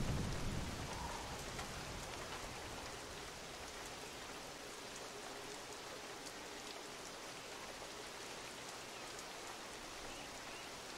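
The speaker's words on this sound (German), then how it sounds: "Komm, Regen, jetzt hör doch mal auf." Rain falls steadily in a video game, a dense hiss of drops that stays even and fairly soft throughout, with a louder onset at the start and no voices.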